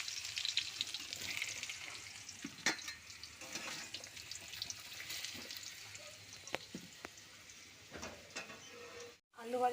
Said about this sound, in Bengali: আলুটা ভাজা বসে দিয়েছি আমি সরষের তেলে, ভাজা বসে দিয়েছি।